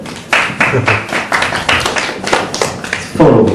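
Sparse applause from a comedy show audience voting by clapping: a modest number of distinct, sharp claps in an uneven rhythm, close and fairly loud, with a few voices mixed in.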